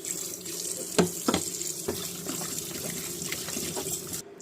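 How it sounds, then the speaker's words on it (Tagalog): Tap water runs steadily into a sink while raw chicken feet are washed under it. Several brief splashes and knocks stand out over the constant flow before it cuts off near the end. "Huhugasan natin para matanggal yung dumi."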